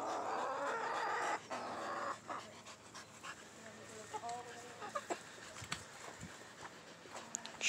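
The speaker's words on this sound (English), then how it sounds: "Hungry chickens." Hungry chickens cluck at a morning visit to their run, a scattered mix of short clucks and calls under a voice talking nearby.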